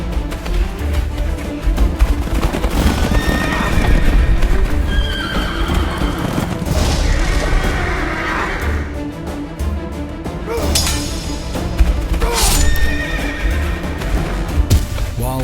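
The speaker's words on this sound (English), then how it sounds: "fighting now erupted on Napoleon's left flank with an epic clash of cavalry" Cavalry horses neigh and whinny repeatedly over a loud, continuous rumble of galloping hooves in a battle clash, with several animals crying out at once.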